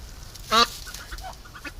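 A duck being caught by hand lets out a single loud, harsh quack, followed by a few fainter sounds nearby.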